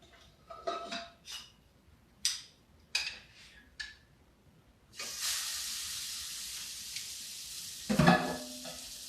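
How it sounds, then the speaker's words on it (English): Fish hits a hot frying pan during taco cooking, and after a few light clinks of cookware, a loud, steady sizzle rises and holds, with one more clatter of utensils near the end. "You probably heard that. It's sizzling."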